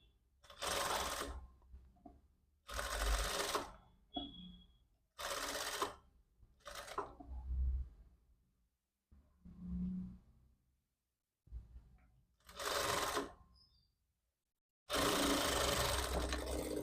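A sewing machine stitching a size-36 princess-style jacket with an open back, running in repeated bursts of steady whirring needle action separated by short silent pauses, close and fairly loud.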